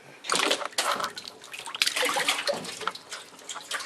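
An empty Apache 2800 hard case is pushed under water in a tub, with irregular splashes, sloshing and gurgling bursts that come and go close up over several seconds.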